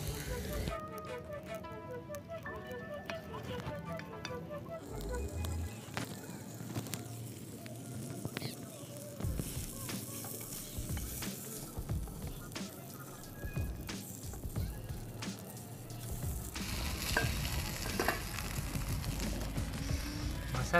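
Fresh fish coated in homemade masala fries in hot oil, giving a steady crackling sizzle that lasts throughout. Someone talks over it.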